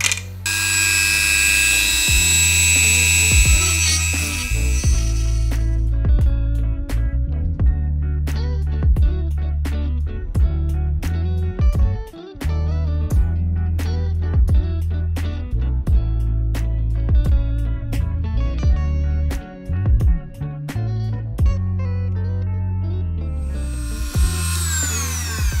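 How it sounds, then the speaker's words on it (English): A Dremel rotary tool drills into the case of a DIY fan-testing machine, a loud, continuous whine with sharp mechanical ticks and rattles, steady for most of the stretch with a few brief dips, and no talking. "now let's go with the Dremel."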